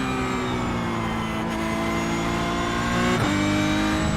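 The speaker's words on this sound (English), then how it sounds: "enjoy the sound of a Porsche 911 GT3 Cup car in brackets 992 at Sebring" A Porsche 911 GT3 Cup (992) race car in iRacing at Sebring holds a loud, steady flat-six engine note, its pitch gliding gradually upward with a brief dip near the end, heard alone without talk.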